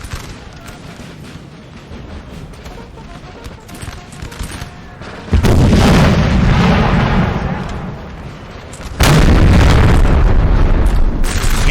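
Artillery fires canister shot in a Napoleon: Total War battle: a low rumble of distant combat, then two sudden heavy booms several seconds apart, each followed by sustained loud crackling roar.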